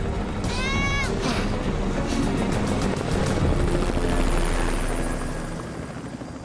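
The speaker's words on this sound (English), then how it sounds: "A search helicopter flies by almost directly overhead." A search helicopter passes almost directly overhead in open desert, its rotor chop growing loud then slowly fading, while a voice briefly calls out near the start.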